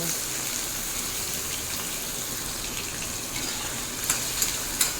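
Pointed gourd (potol) frying in oil: a steady, even sizzle and hiss with a few brief pops near the end, no talking over it.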